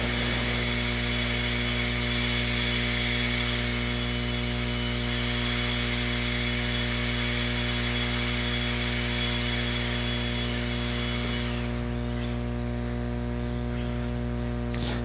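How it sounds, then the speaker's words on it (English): Track blowers clear dirt from an RC off-road raceway, giving a loud, steady motorized drone with strong mechanical hum that eases slightly near the end. "While we got the track blowers out there,"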